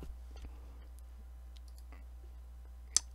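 A single crisp keyboard tap, the Tab key pressed while working in Blender 2.8, lands near the end of a quiet room, with a few fainter clicks scattered before it.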